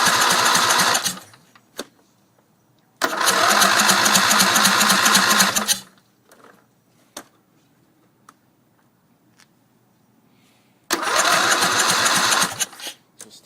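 A Briggs & Stratton Intek engine on a racing lawn tractor cranks in three loud, close bursts of rapid starter chugging, with a brief firing pop between them and quiet gaps where it fails to catch.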